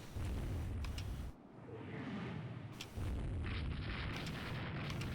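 Naval shells striking warships in Rule the Waves 2, heavy rumbling explosions and booms rolling continuously with brief dips, dense and loud, no voices over them.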